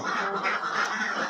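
A brief burst of ducks quacking together, a nasal, overlapping chatter of several birds, fairly close.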